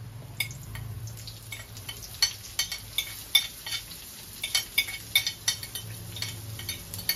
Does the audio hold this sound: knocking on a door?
no